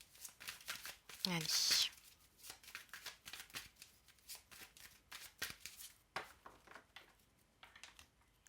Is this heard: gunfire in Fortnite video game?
no